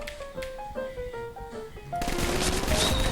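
Gunfire in a video game, first a quick run of short clipped shots mixed with tonal game beeps, then a louder dense burst of rapid fire with bright crackle, close and without speech.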